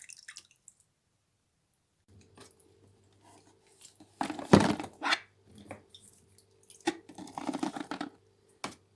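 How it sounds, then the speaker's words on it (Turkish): Freshly cracked green olives tipped into a container of vinegar water, giving a couple of wet splashing, sloshing bursts with scattered drips in between, close and fairly loud against an otherwise quiet room. "Kırdığımız bütün zeytinleri hemen anında sirkeli suya döküyoruz"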